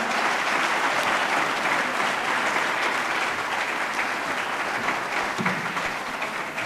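Sustained applause from an audience at a live political event with regional ministers, dense and steady from start to finish with no speech over it.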